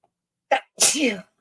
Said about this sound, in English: But I'm gonna sneeze.